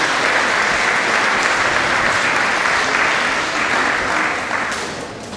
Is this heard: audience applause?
yes